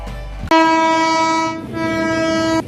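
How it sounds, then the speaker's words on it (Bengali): Rangpur Express 771 train sounding its horn as it arrives: a loud, close, sustained blast that dips briefly and then resumes for a second long tone. "রংপুর এক্সপ্রেস 771 ট্রেনটা আসলো"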